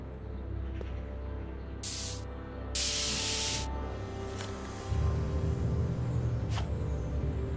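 A spray paint can hisses in two short bursts in a Back to the Future video game scene, with a steady game soundtrack and rumble underneath.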